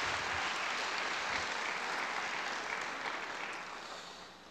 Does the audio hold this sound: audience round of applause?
yes